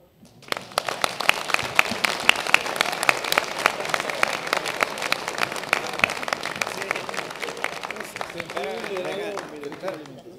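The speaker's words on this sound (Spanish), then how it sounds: "Un aplauso, por favor." Applause from a seminar audience at a formal closing, dense clapping sustained for about ten seconds with voices speaking over it toward the end.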